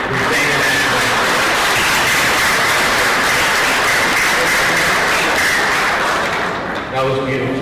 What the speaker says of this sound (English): let's hear another round of applause for Ashley Benaranda, who sang the national